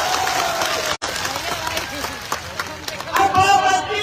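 Crowd at a farmers' rally in Alwar clapping and cheering, a rough burst of applause and crowd noise with voices mixed in, swelling louder toward the end.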